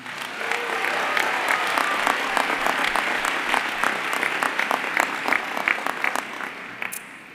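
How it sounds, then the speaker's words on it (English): A conference crowd at the 43North Finals applauds the finalists, a broad wash of clapping with sharp individual claps standing out nearby, gradually thinning out toward the end. "Let's give another round of applause to this year's finalists."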